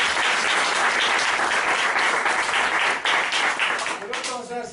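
A large audience breaks into sustained, loud applause that carries steadily through and tapers slightly at the end, with voices faintly mixed in.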